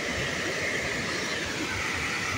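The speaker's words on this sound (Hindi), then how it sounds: "पानी भी बहुत तगड़ो पड़ रही है" Heavy water rushes over the Bhomada dam in rainy weather, a dense, unbroken roar of hissing, churning flow, loud and close throughout with no voices.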